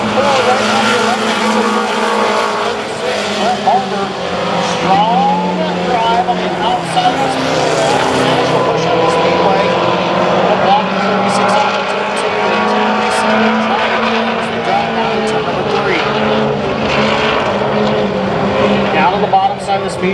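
Mini stock race cars roaring around a speedway in a close heat race, loud continuous engine drone with shifting pitch as cars pass, under an announcer's steady commentary.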